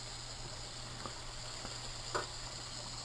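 Soft, steady sizzling of panfish frying in a pan, with a few faint pops and crackles, close by and otherwise quiet.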